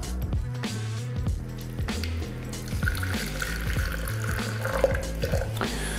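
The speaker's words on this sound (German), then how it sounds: "Die Garflüssigkeit kommt jetzt nochmal zurück in den Mixtopf" Cooking liquid poured into a Thermomix mixing bowl, a continuous liquid pour with light trickling and dripping and a few soft clinks.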